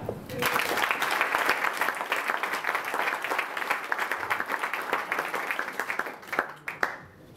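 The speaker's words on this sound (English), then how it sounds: "A big clap for Carole" Audience applause for a guest speaker at a Dutch hockey team event in Melbourne, a steady dense burst of clapping lasting several seconds before tapering off at the end.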